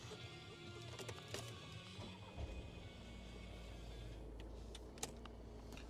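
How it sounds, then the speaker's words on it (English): A VW California Coast van's engine starts partway through after some faint mechanical clicks, settling into a low steady idle rumble heard from inside the vehicle. "We'll just start the vehicle up."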